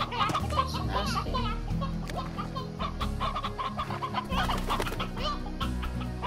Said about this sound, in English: Oh look! Little baby chicken.